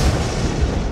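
A high-velocity magic projectile fired in the fantasy spellcasting game Fictorum, heard as a loud, dense, rumbling blast that booms steadily through the whole second with no voices over it.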